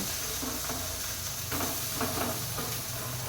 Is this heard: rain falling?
no